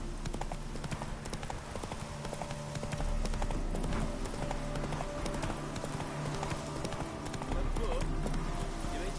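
Hooves of the horse Roach in The Witcher 3 clip-clop in a steady galloping rhythm close by, under intermittent spoken game dialogue.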